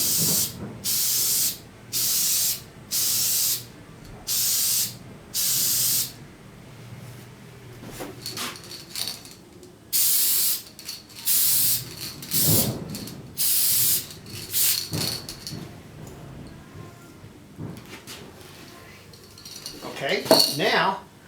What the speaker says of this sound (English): The spray stain is a little bit expensive and hard to find.